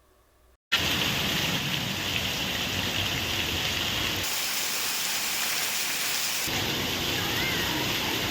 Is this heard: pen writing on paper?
no